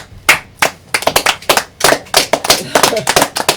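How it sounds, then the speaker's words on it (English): A talk-show studio audience claps in a loose, uneven rhythm, individual sharp hand claps standing out clearly and close rather than blending into a dense roar. "Look at all these clapping white men"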